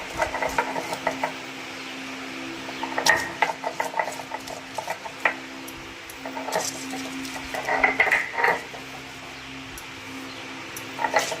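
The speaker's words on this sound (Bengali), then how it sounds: "আর এখন দেখো হাতে শুরু করছি মশলা বাটা" Rough, rhythmic scraping and grinding of stone against stone as spices are ground by hand, in steady strokes with occasional louder knocks, close by and without any talking.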